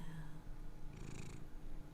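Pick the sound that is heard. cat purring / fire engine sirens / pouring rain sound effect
cat purring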